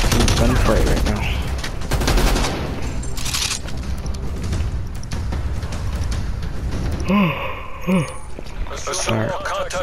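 Call of Duty Cold War online gunfight: bursts of rapid gunfire and booms crackle near and loud, mixed with clattering game effects and a speaking voice over the top.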